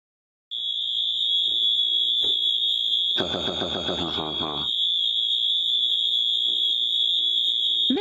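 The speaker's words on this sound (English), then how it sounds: "The fire alarm went off" A school fire alarm set off by a pulled switch sounds a continuous, loud, high-pitched electronic tone that starts abruptly and holds steady, with a brief burst of other noise underneath partway through.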